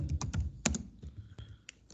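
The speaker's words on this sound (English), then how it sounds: "I'm just typing something." Typing on a computer keyboard while entering a citation in Mendeley reference software, with a quick run of close, crisp key clicks followed by sparser, softer keystrokes.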